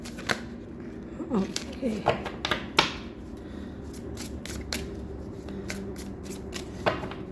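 Tarot cards are shuffled and drawn in short bursts of riffling, slapping and flicking, with quiet gaps between them as someone speaks softly over the handling.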